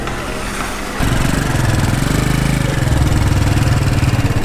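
A motorbike engine running close by on the Ha Giang Loop in Vietnam, with a steady rough throb that steps up louder after a second and keeps pulsing evenly.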